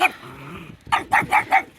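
A puppy growls low and steadily, then breaks into four quick, loud barks in an even rhythm, close by outdoors at a grape garden during morning chores.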